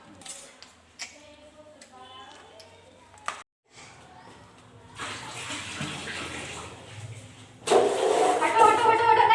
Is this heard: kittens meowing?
no